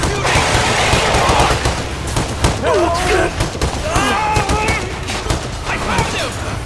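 Rapid bursts of gunfire from a horror video game, dense and continuous, overlaid with game effects and voices talking throughout.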